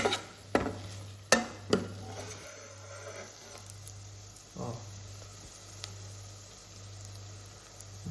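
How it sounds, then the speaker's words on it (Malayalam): A spoon scrapes and stirs Kerala-style squid roast in a pan, with a few sharp clinks at first, then a soft, steady sizzle and occasional scraping strokes up close with no speech. "നല്ല പോലെ പിടിക്കുന്ന രീതിയിൽ നന്നായിട്ട് മിക്സ് ചെയ്യും"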